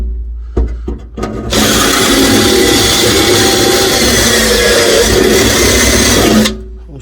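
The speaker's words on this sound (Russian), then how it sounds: "Так вот я высверлил" A power drill whirs loud and close for about five seconds with a steady grinding hum while drilling a hole, then cuts off.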